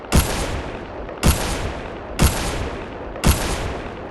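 Gunfire in a Minecraft horror mod: four loud, sharp shots spaced about a second apart, each followed by a ringing decay, with no talk over them.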